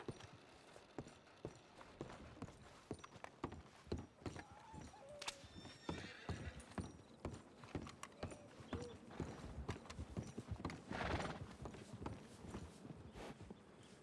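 A horse in the Red Dead Redemption 2 western roleplay game, with repeated hoof clip-clops on the ground and a whinny partway through, set against soft background game noise.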